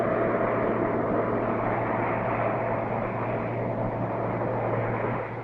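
Lockheed LC-130 turboprop taxiing after landing in Antarctica, a loud continuous propeller and engine drone with a steady low hum throughout.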